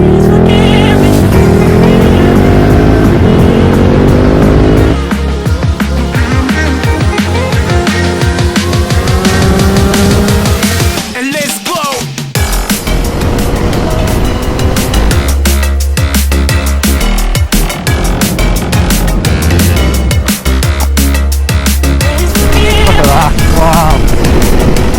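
A 2021 KTM Super Adventure S motorcycle roars close and loud on a test ride, its engine rising repeatedly through the revs with a brief dip midway, over constant rushing wind.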